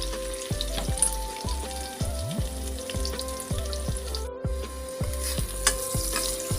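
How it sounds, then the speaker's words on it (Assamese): Onions and turmeric frying in hot oil in a home kitchen, with a steady sizzle running throughout alongside tonal sounds in the background. "তেলখিনি গৰম হৈ গ'ল, মই ইয়াত পিঁয়াজ দি দিছোঁ, ইয়াত দি দিছোঁ হালধি"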